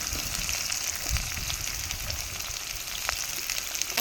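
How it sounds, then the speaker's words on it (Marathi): Onion sizzles in hot oil with garlic that has already browned, for a village-style roasted brinjal bharit. The steady, close frying hiss continues throughout with faint stirring. "आता ह्याच्यामध्ये आपल्याला कांदा टाकून घ्यायचा"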